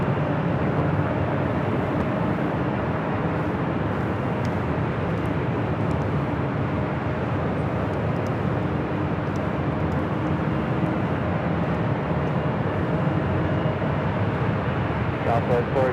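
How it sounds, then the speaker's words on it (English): An Alaska Airlines Boeing 737-900ER arriving at LAX after a flight from Seattle gives a continuous, even jet roar at moderate distance, with a voice heard over it. "Our next arrival here on the north side is Alaska Airlines, flight 1092 coming in from Seattle, 737-900 ER."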